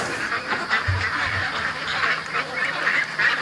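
Ducks quack repeatedly in a pen, a busy overlapping chorus of nasal calls at moderate distance with a few low, louder honks early on, and no talking.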